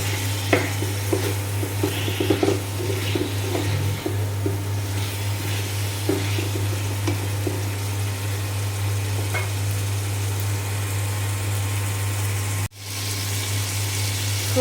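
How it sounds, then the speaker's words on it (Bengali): Potatoes sautéing with spices in a pan, with a constant loud sizzle over a steady low mechanical hum and occasional soft scraping stirs, briefly cut off near the end. "এখন মশলার সঙ্গে আলুটাও খুব ভালো করে"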